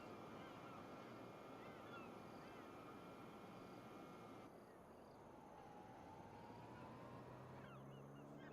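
Birds call from the countryside of a farming video game's Witcombe Park Farm, honking and chattering steadily as a loud, dense chorus, with a low drone underneath and no voice.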